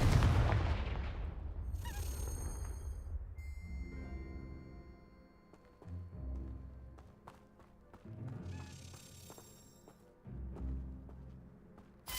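A Confringo blasting spell goes off in a video game, a loud low boom at the start that decays over a few seconds, followed by quieter game sounds and a faint crackling sparkle.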